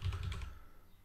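Code being typed on a computer keyboard gives a quick burst of several faint, close keystrokes in a brief rhythmic run that then trails off into quiet.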